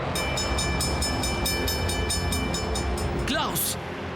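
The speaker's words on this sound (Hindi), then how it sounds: "ट्रेन के गुजरने के बाद रेलवे लाइन स्विच हुई थी।" In an animated football episode, a train passes on a railway line with a steady rumble and regular clicking beats, then a short rising whistle-like tone before it fades.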